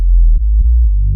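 A heavy, rounded FM-synth sub bass patch centered on its fundamental rumbles continuously and loud, with a handful of soft note retriggers across about a second.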